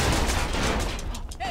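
Gunfire in the video game GTA: San Andreas, a dense rattle of rapid shots over a loud, noisy game mix.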